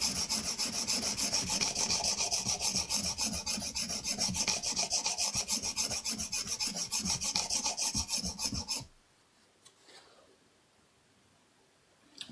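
A metal edge is filed by hand, rapid rhythmic rasping strokes close up, evenly paced for several seconds before stopping abruptly into near silence.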